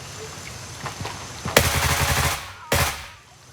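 Rifle gunfire in Gray Zone Warfare, a 7.62 versus 5.45 field test: a few scattered shots, then a loud sharp burst of rapid fire ringing out, a short pause, and one more loud report that fades away.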